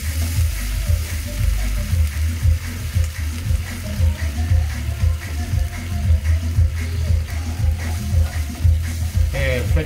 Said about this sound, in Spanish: y ahora echamos el vino blanco